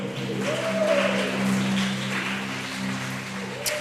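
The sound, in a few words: church congregation applauding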